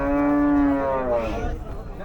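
A cow at a busy cattle market gives a single loud, drawn-out moo that rises and then fades after about a second, with market noise faintly underneath.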